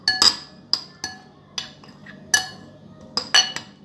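A spoon clinks sharply against a bowl while lemon juice and salt are stirred into sandwich filling, about ten quick, bright taps in an uneven rhythm over a quiet background.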